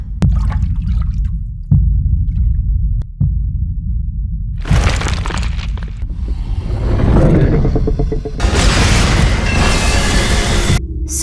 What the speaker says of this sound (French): Ce bruit, qu'est-ce que c'était? Mais on aurait dit une explosion.